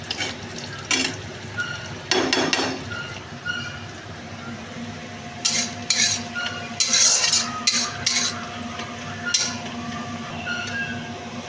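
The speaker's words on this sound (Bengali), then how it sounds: "এর মধ্যে পেঁয়াজ দিয়ে ভেজে নেব, একটু নুন দেবো ওর মধ্যে" Onions frying in white oil with a pinch of salt, a steady low sizzle running throughout, broken by sharper clinks and scrapes of a spatula against the pan at intervals.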